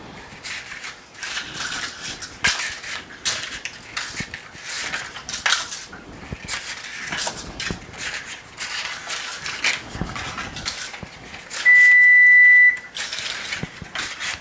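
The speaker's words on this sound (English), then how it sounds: "So our oven is ready. It's just beeped, so it's been preheated." Kitchen oven chiming once it finishes preheating, a steady electronic tone of about a second heard near the end over clinking of dishes, cutlery and pans during cupcake baking.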